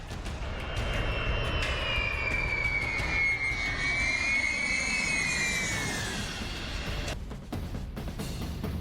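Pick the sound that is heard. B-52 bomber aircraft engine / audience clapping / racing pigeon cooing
B-52 bomber aircraft engine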